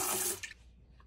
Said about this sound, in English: Once it's filled all the way up, we're going to give it a flush.